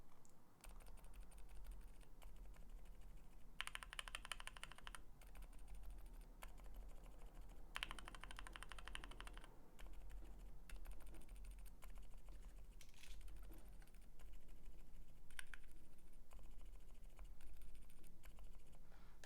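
Silent Durock Dolphin mechanical keyboard switches typed on in stock form, then lubed and filmed, then lubed and filmed without dampeners, giving soft muted keystrokes in steady bursts with brief pauses, fairly quiet and alone.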